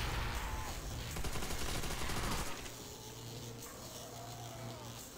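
Rapid automatic gunfire from a player's weapon in Call of Duty World at War Zombies, loud dense bursts for a couple of seconds, then quieter game ambience with faint trailing noises.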